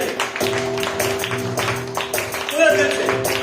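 During a Hindi healing prayer service, a congregation claps hands in a steady, regular beat under sustained music and a voice leading the gathering.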